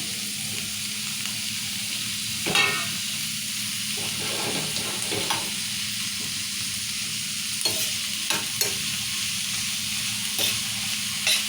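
Onions, green chillies and tomato fry in a pan for red lentil curry, giving a steady close sizzle broken by occasional stirring scrapes and clinks, with no voices.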